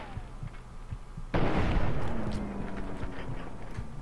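A single sharp, loud gunshot in Fallout 3 cracks out after quiet ambience and leaves a rumbling tail as it fades.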